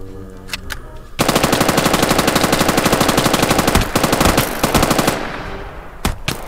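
A machine gun fires in a Minecraft gun mod in one long, loud, continuous burst of rapid shots, with a few separate bangs before and after it and no talking.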